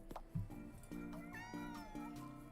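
Several cats meow in a video game, with a short low meow followed by a series of higher, drawn-out meows over steady game background tones.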